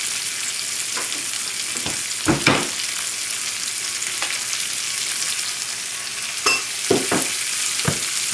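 Peppers and zucchini frying in a pan for a rack of lamb dish, a steady close sizzle with a few louder stirring scrapes and clatters breaking through.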